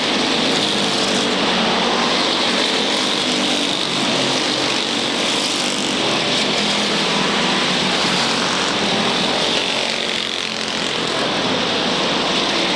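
Late model stock cars roar around a 1/3 mile oval at Waterford Speedbowl in 1994, a dense continuous engine drone from the pack that stays loud and steady throughout.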